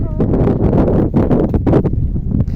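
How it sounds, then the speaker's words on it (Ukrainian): Strong gusts of cold wind buffet the microphone in a village, a loud rumbling roar that rises and falls continuously. "вітер холодненький такий дує"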